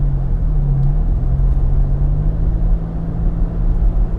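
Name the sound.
pickup truck engine roaring inside cabin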